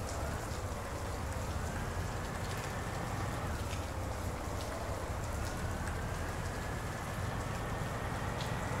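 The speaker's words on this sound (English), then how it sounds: "Oh, now the rain's and thunders came in." Rain falling during a night mission in the video game Arma 3, a steady dense hiss of rainfall with a low rumble underneath, constant throughout, no talking.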